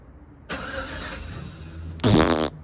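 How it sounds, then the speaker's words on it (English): A car engine cold start attempt on a street: the starter cranks for about a second and a half, then a louder, harsher burst of engine noise near the end cuts off abruptly, with no steady idle following. "I'm about to give you guys a little cold start off from the rear."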